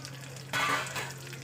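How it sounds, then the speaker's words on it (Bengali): Ginger, garlic, chili and onion hit hot oil with a sudden burst of frying hiss, which then settles to a softer steady sizzle over a low constant hum. "তেলটা একটু গরম হলেই আমি যে মশলাগুলো নিয়েছিলাম সেই মশলাগুলোকে সব দিয়ে দেবো দেখতে পাচ্ছেন আদা রসুন লঙ্কা পেঁয়াজ সবটাই দিয়ে দিচ্ছি"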